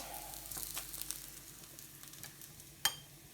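Onions sizzle and fry steadily in a pan while spices go in for samosa filling, with a soft constant hiss, a few light stirring scrapes and one sharp clink near the end.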